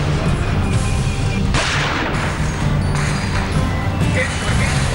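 Gunfire rings out during an armed encounter at a house in Poonch, Kashmir, with repeated sharp cracks over dense, continuous noise, loud and close throughout.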